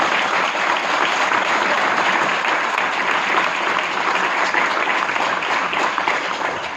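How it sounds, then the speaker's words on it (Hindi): A seminar audience gives a loud, sustained round of applause, dense clapping that fills the whole stretch at an even level with no voices rising above it. "उसके लिए एक बार जोरदार तालियां होनी चाहिए"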